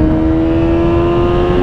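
A Yamaha XJ6 four-cylinder motorcycle engine accelerates close by, a loud steady tone with sustained revving and wind noise over the full length, with no voices.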